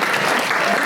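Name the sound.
audience clapping for Margaret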